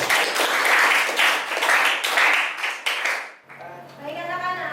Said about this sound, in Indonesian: Tepat sekali, tepuk tangannya.